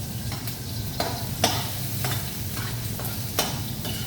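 Chicken frying for tinulang manok, with a quiet steady sizzle and a few sharp scraping stirs from a utensil in the pan at irregular intervals, and no talking.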